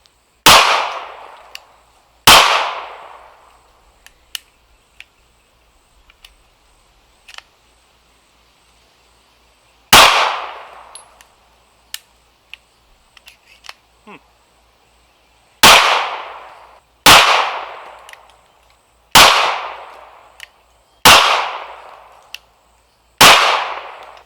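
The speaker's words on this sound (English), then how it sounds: "Firing these out of the Koenig TP9 SA." Pistol shots from a Koenig TP9 SA at an outdoor range. Nine loud, sharp reports come spaced apart, with two early, one in the middle and a fast run of six at the end. Small clicks and handling noises fill the gaps.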